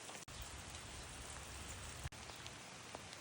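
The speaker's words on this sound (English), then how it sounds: "It's raining, Daisy." Steady rain falls outdoors during a fall hike, a dense, even hiss with no voices and a couple of faint thumps.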